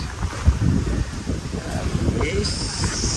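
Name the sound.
wind blowing near Katunayake airport hotel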